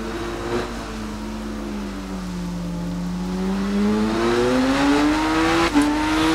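A 1998 Yamaha YZF-R7 engine in the Ride 5 racing game on a wet track drones steadily, the pitch dipping and then climbing as the bike accelerates, loud and close, with a brief sharp shift near the end.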